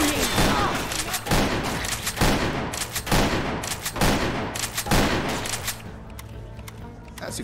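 Gunfire rattles in Left 4 Dead 2 as repeated loud bursts of shots come in quick rhythmic clusters, close and dense, tapering slightly near the end.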